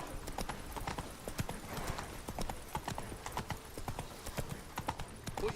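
Roach, the horse in The Witcher 3, gallops with rapid, rhythmic hoofbeats drumming steadily and close throughout, with no voices over the clatter.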